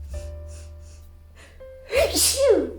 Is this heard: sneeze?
yes